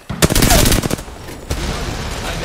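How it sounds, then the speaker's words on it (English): Gunfire in the video game Apex Legends: a quick burst of rapid shots rattles loudly and close for about a second, followed by a single sharp shot and lingering game noise. "They're firing on me."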